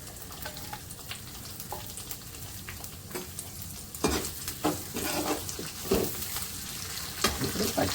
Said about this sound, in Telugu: ఇప్పుడు ఉల్లిపాయ ముక్కలు వేస్తున్నాను.